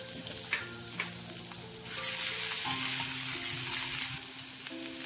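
Butter and ginger-garlic paste hit hot oil in a pan for dhaba-style mixed vegetables, with a gentle sizzle that surges into a loud, steady hiss partway through and stays close, with no talking.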